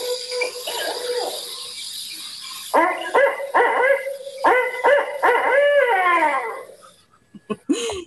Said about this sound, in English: So this is a barred owl.